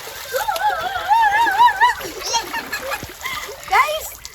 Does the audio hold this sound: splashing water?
yes